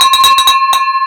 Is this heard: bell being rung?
yes